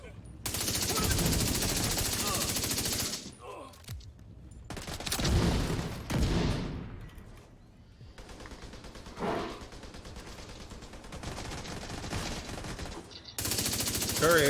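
Sustained bursts of automatic gunfire from the video game Division 2, loud and dense, broken by short lulls and a few sharp single shots, with faint talk in the background.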